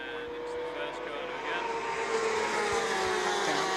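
F1000 race cars at Brands Hatch drone past during a race, their engine notes rising and sweeping in pitch as they pass at a distance, under a commentator's voice.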